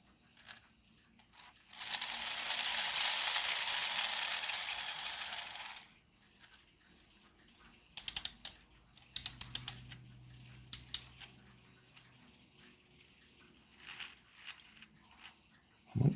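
A 3D printed wind-up toy car's gear mechanism whirs in a dense, steady burst for about four seconds, then gives way to scattered clicks, ratchet-like snaps and small knocks, heard close with no voices.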